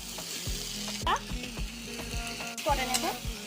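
Bhindi masala tempering of bay leaf, dried red chilli and five-spice frying in a pan, a constant sizzle under repeated close scrapes and clinks of a spatula stirring, with a few louder knocks.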